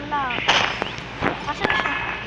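Video game gunfire cracks in quick, sharp bursts over a continuous layer of game sound, with a player's voice talking underneath.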